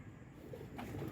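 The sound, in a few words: pigeons cooing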